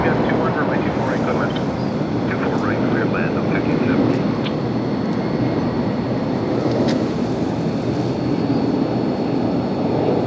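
An Airbus A350 jet airliner flies over LAX, heard as a loud, steady roar that fills the whole stretch, with people talking nearby.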